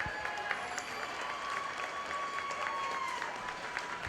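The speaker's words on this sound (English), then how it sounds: "let's give him a nice round of applause for a good class" Crowd applause at a county fair 4-H and FFA market hog show, a steady patter of clapping held at moderate distance for several seconds, with faint background chatter and a thin tone running beneath.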